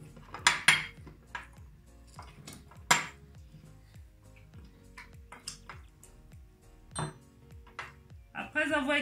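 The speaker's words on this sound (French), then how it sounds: "nous allons avoir un pilon que nous allons écraser nos citrons" A pestle crushing lime quarters in a glass for a caipirinha: sparse, sharp clinking taps and knocks of glass, irregular and close, with quiet background between strikes and a bit of speech.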